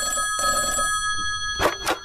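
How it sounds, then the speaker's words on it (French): A telephone bell rings at a home residence, a ringing burst over a bright electronic tone, followed by two sharp clacks, all close and fairly loud. "Et allez, encore ce maudit téléphone"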